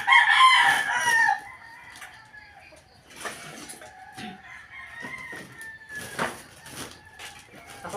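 A rooster crows loudly and close by on a farm, with chickens clucking around it. Quieter clucks and bird calls continue afterwards.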